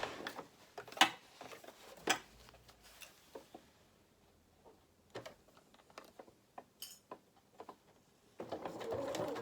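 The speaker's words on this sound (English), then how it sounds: "And then I'm going to now just sew where that pin is." Bursts of a sewing machine stitching the skirt of a small doll's sailor dress, short runs of rapid mechanical ticking separated by pauses, ending in a steadier longer run, close and fairly quiet with no talk.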